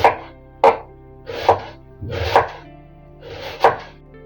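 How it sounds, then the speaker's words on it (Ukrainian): Knife chopping an onion on a board: five sharp, separate chops spaced roughly a second apart, close up and fairly loud, with no talking. "Нарізаю цибульку."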